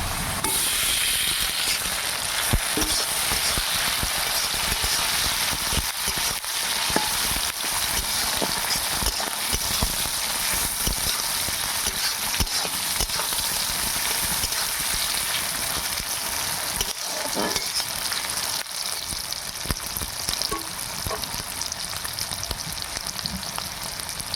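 Tomato sizzles in oil along with already-fried onion, a steady, fairly loud hiss with faint stirring scrapes and no speech.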